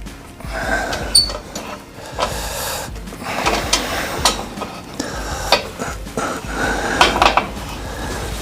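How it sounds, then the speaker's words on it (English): Metal clanks and scraping turns ring out as the lid of a resin casting pressure pot is tightened down, with irregular close knocks and grinding clatter throughout. "we'll tighten the lid down"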